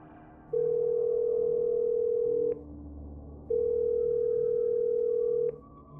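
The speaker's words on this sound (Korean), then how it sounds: "저는 초저녁에 있었던 사건의 전말과 함께 제 마음을 이야기하고 싶어서 용기를 내어 전화를 걸었습니다" A telephone tone sounds while a call is being placed: two long, steady, even beeps of about two seconds each, separated by a short gap, over faint background hiss.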